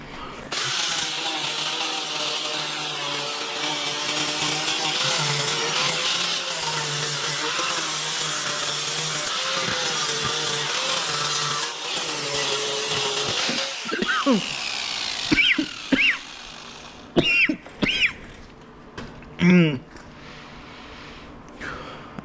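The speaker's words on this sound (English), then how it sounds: "We're just gonna grind all this down and paint it" A grinder works down rusty metal on the suspension area of a 1972 Mustang Mach 1, a loud, steady, harsh grind for about thirteen seconds, then several short intermittent bursts with pauses between.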